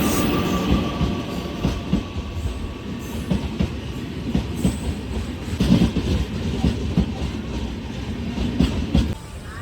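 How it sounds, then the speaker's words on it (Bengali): The Tamralipta Express from Digha pulling into a station, a loud steady rumble of wheels with rhythmic clickety-clack over the rail joints and faint squeals, heard alone without talk. "দীঘা থেকে তাম্রলিপ্ত এক্সপ্রেস ঢুকছে দশটা পঁয়ত্রিশে"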